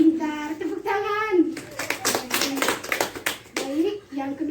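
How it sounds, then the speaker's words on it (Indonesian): Children in a classroom break into a burst of applause lasting a couple of seconds, dense clapping from many small hands, with an adult teacher's voice speaking before and after it. "tepuk tangan"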